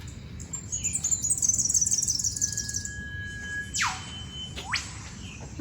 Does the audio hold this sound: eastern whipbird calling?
yes